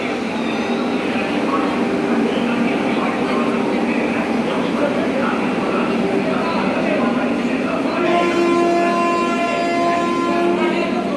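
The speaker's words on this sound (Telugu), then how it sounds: "వెళ్ళిపోతుంది చూడండి సికింద్రాబాద్ నుంచి విశాఖపట్నం వెళ్తుంది వందే భారత్ స్పెషల్ ఎక్స్ప్రెస్" A Vande Bharat express train departs Vijayawada railway station, rolling past close by with a continuous rumbling roar and a rising electric whine, while voices murmur in the background.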